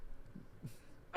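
A person sneezes once, loud and close, as a sharp burst at the end, after a quiet stretch with faint breathy sounds.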